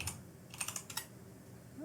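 Light typing on a computer keyboard with a short burst of soft, quick key clicks, faint and close, in an otherwise quiet room.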